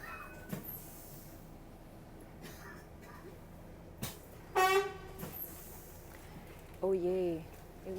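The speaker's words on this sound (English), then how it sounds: "Oh yay, it wouldn't be Paris without some honking." Car horns honking in Paris street traffic on Boulevard Saint-Michel, heard from aboard a city bus: two short honks, a few seconds apart, stand out over a low traffic rumble.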